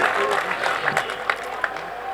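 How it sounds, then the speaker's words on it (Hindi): An audience at a festival breaking into applause, a dense spread of hand claps from a crowd with a few sharper claps standing out, mixed with some voices. "एक बार जोरदार तालियां बजाइए इस महोत्सव के लिए"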